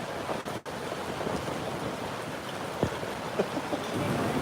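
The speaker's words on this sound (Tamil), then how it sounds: "இங்கே பயங்கர மழை வருதுங்க" Heavy rain pours down in a dense, continuous roar of broadband hiss, broken by a brief dropout near the start and a couple of sharper splashes or knocks.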